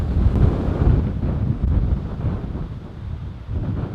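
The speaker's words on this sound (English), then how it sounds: "I wasn't lying about the wind." Strong wind buffets the microphone outdoors in East Tennessee ahead of incoming storms, a loud, continuous low roar that gusts and eases without any talking.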